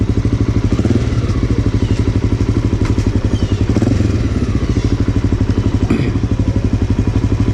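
A Honda XR650L single-cylinder dirt bike fitted with an aftermarket exhaust idles and runs close up, its loud, rapid, even thumping pulse steady throughout, with a couple of brief blips and light mechanical clatter.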